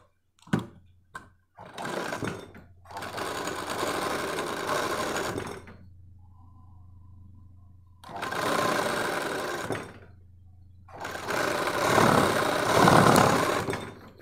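A sewing machine stitches a bra in several loud running bursts of a few seconds each, separated by short pauses and quieter gaps with a low steady hum.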